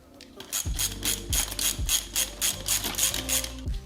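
A ratchet clicks in quick repeated bursts while snugging bolts on the frame of a 2022 Indian Super Chief Limited motorcycle, each pull giving a close, loud run of mechanical clicks with no talking.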